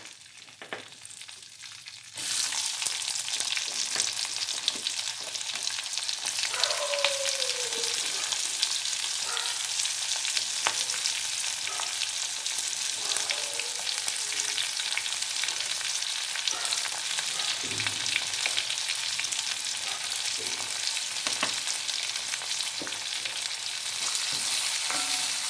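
Onions hit hot oil with whole garam masala for gongura chicken, giving a sudden loud, continuous sizzle that runs on steadily with occasional stirring scrapes.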